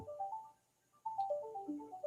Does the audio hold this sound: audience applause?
no